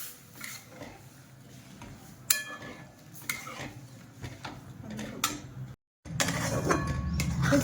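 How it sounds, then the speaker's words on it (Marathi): A spoon stirs a thick mixture of ginger juice and sugar in a pan, giving irregular close clinks and scrapes against the metal, with one brief silent pause before the stirring resumes louder. "आल्याचा रस घालून चांगलं मिक्स करायचं याला।"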